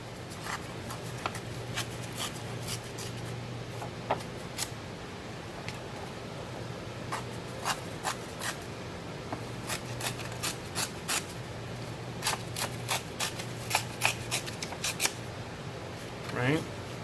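Scissors snip paper for a Halloween mummy card in a run of brisk, close cuts and rustles, with a faint steady hum underneath.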